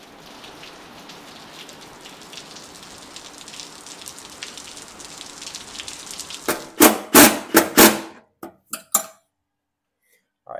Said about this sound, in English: it's 85 degrees and raining